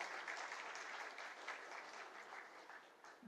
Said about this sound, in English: A big round of applause for Rego teacher for making it today.